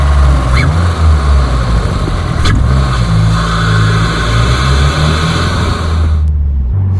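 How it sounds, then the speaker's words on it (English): Tuned 2018 Subaru WRX Stage 1+ engine revving up and down several times, heard loud and close from inside the car. It is a steady mid-range drone with rising pitch sweeps, and no talking over it. "Here, I'll give you a little bit of revs."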